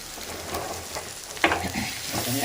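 Capsicum poriyal stirred in a hot pan just after the lid comes off, a steady close sizzle broken by a sharp scrape of the spoon midway and more stirring clatter after.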